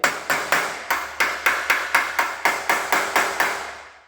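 Sheet metal is hammered over a 2x4 in a workshop, about fourteen sharp, ringing blows at a steady, brisk rhythm, each decaying quickly, close and fairly loud with no talk.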